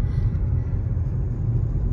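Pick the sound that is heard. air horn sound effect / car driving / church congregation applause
car driving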